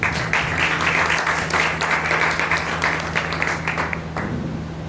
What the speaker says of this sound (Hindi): एक बार जोरदार परमेश्वर के लिए ताली मारें